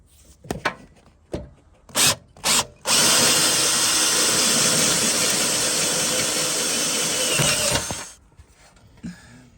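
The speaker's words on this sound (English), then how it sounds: "Right, so that's all drilled in there." A power drill runs steadily for about five seconds, drilling through the floor of a Vivaro van to mount a seat. It is loud and close, with a few knocks and handling noises just before it starts and after it stops.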